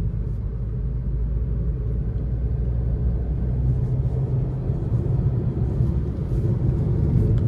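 Maruti Ignis car engine accelerating, a steady low rumble from inside the cabin that builds slightly toward the end.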